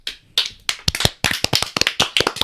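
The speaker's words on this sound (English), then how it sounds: "Yes. Everyone applaud." A small group claps together at the end of a podcast announcement, a quick burst of sharp, close hand claps that patters on irregularly for about two seconds.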